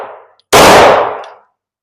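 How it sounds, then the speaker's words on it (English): A Glock 19X pistol fires a single sharp, loud shot that rings out and fades over about a second, after a fainter lower noise. "Glock 19X. It's my favorite shooting gun."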